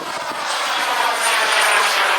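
A Yak-130 jet aircraft makes a low gear pass over the runway at a Florida jet flight line, producing a loud, steady roar that swells slightly as it passes.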